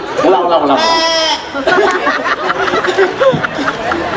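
A performer at a Balinese bondres comedy show imitates a young goat's bleat, a wavering, quavering voice call followed by laughter and chatter from others.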